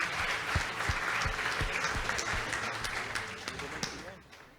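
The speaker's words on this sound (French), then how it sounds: "On applaudit très fort." An audience at a French retail customer-satisfaction award ceremony claps at moderate volume for several seconds, fading toward the end, with a voice speaking over it.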